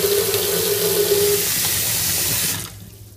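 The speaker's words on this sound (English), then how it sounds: "turn on your hot water and start filling the sink up" Hot water running steadily from a kitchen tap into a sink, a loud continuous rushing splash with a faint tonal whine, cutting off abruptly near the end and leaving quiet room tone.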